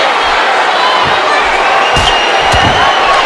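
Wrestling slam impacts in the WWE 2K14 video game, a few dull thuds over a constant loud roar of arena crowd noise, with a commentator's voice in the mix.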